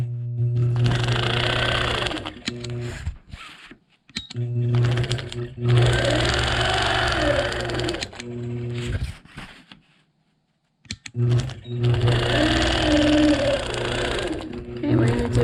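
A sewing machine runs in long steady bursts while quilting straight channel lines and crosshatching on African-print squares, stopping briefly between rows; the motor hum is loud and close, with a voice talking quietly over parts of it.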